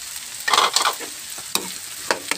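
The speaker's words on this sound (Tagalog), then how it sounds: "Haluin ko muna na ito." Tofu frying in a pan is stirred, with a steady sizzle broken by several close spatula scrapes and clicks against the pan.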